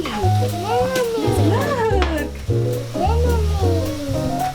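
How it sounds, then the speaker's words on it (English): A whisk stirs cheese into mac and cheese sauce in a pot, rhythmic scraping and stirring close by, with children's voices talking over it throughout. "slowly add cheese to the mixture and whisk as you go until all of the cheese is in the pot"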